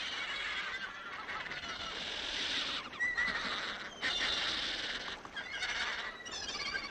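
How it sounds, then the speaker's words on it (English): A dense chorus of seabirds calls continuously, many harsh overlapping cries from a large colony, loud and busy with no pauses. "Wild birds by the thousands."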